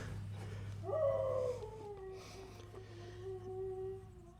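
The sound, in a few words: dogs howling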